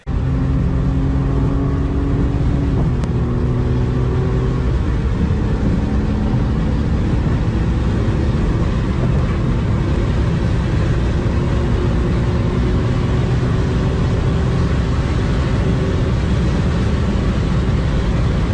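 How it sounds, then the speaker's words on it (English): BMW car driven fast and recklessly, a loud, dense engine roar with pitch steps as gears change early on, then a steady high-speed drone, close and continuous with no speech. "All he does is drive his mom's BMW fast and recklessly."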